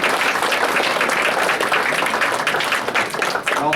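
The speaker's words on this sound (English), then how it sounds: "Can we give a round of applause to Jan and the Bluff for providing us with a great venue?" Sustained applause from a banquet audience, dense steady clapping filling the room at close range and strong volume throughout, with no speech over it.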